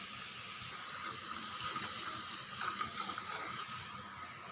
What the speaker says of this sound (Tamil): தண்ணி நல்லா கொதிக்கட்டும்.